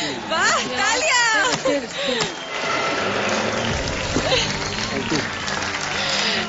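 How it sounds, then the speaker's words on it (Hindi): A studio audience at a singing competition breaks into applause, dense clapping under a presenter's voice and singing-like vocal tones, with chatter continuing through the clapping. "वाह तालियां।"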